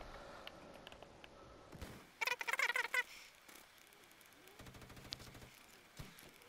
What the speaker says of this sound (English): I'm hitting them with a gun